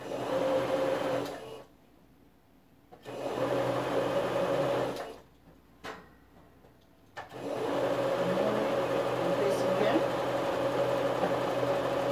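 A domestic sewing machine stitches in steady running bursts, stopping twice for a few seconds before starting again, fairly loud and close, with no talk over it.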